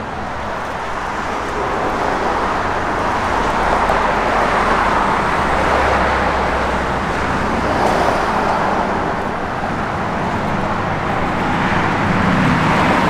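A 1969 Chevrolet Chevelle SS convertible on the road, its engine a steady low rumble under broad wind and road roar, heard from inside the car with no voices.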